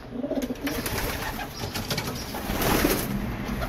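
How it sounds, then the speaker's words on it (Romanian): Pigeons coo softly and repeatedly at close range, their low burbling calls layered over a busy rustling background with faint wing and movement noises, no talking. "Aceea unde se plimbă porumbeii"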